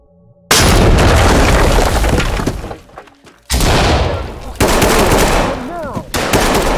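A C2 breaching charge detonates with a loud blast in the tactical shooter Ready or Not, followed by a burst of close gunfire and shattering debris, then more shots and crashing impacts.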